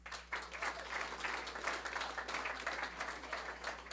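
A comedy-club audience claps hands in scattered, moderately sparse applause lasting several seconds, heard at a distance and fairly quiet.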